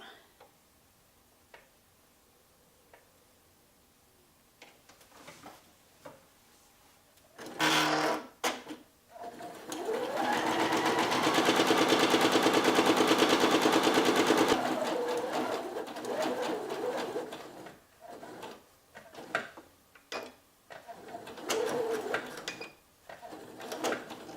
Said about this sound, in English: So we'll be sewing down the sides and the bottom twice.